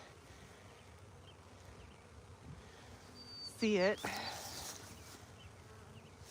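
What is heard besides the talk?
honeybee swarm buzzing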